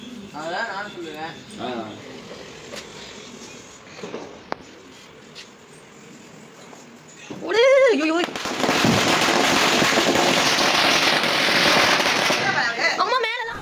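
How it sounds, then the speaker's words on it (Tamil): Diwali firecrackers burst loudly in a dense, continuous crackling volley during the second half, following quieter ambient sounds and faint voices earlier on. "ஆனால் ஒரு ஆசைக்கு பட்டாசு வெடிக்கிறது தான்"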